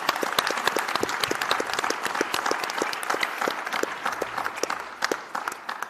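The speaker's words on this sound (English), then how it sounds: "So a big applause." Sustained audience applause at a plenary session of a conference, dense steady clapping from a large crowd filling the whole stretch with sharp individual claps standing out, moderately loud and continuous.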